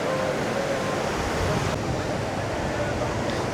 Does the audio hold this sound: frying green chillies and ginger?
no